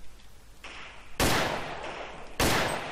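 Gunfire in the top-down shooter game CS2D: a soft shot, then two sharp, loud blasts about a second apart, each trailing into a hissing, noisy decay, with no voices.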